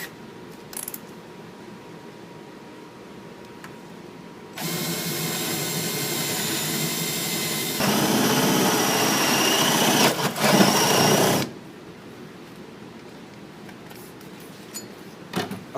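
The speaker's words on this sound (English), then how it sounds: "I'm going to go ahead and drill these next 4 holes" A power drill boring 1 1/8 inch diameter holes at a workbench runs with a steady, loud whine for about seven seconds, its pitch and load shifting partway through, framed by quiet room tone before and after.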